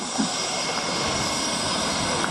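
A Fairey Swordfish biplane with a Bristol Pegasus radial engine, flying at the RNAS Yeovilton International Air Day, gives off a steady, loud, unbroken engine drone with no speech over it.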